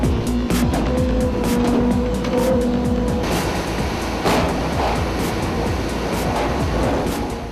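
Two excavators strain to push a house-sized, roughly 100-ton black stone boulder at a quarry in Boryeong, South Korea. Loud, continuous engine roar carries grinding scrapes and sharp squeals throughout.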